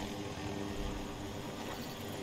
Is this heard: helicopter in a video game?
yes